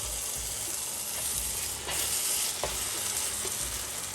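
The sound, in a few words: tomato puree added to the pan and stirred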